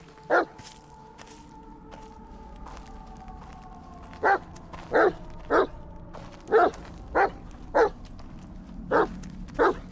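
In the video game The Medium, a dog barks repeatedly in single, spaced yaps over a low steady ambience, fairly close, with occasional soft whimpers between the barks.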